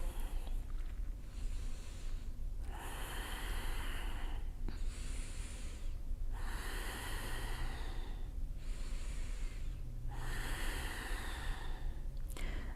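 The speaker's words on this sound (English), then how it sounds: "Keep breathing. Long, deep inhales and exhales." Slow, deep breaths while holding a yoga shoulder stand, long airy inhales and exhales alternating in a steady rhythm about every two seconds, close and soft with no talking.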